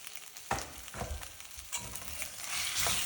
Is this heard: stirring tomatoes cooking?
yes